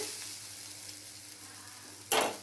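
Eggs fry in a hot pan over fried onions for a green-chilli egg fry. A steady, close sizzle runs throughout and swells into a louder hissing burst near the end.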